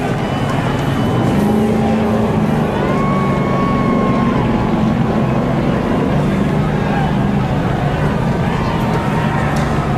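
Chevrolet stock race cars racing hard in the final lap at Phoenix, a loud continuous engine roar with shifting drones throughout.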